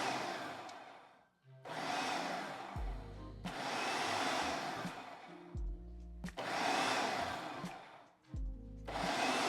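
A food processor pulses butter into flour for pie-crust cookie dough in a series of loud, separate whirring bursts, each several seconds long, with brief knocks and pauses between them and no talking.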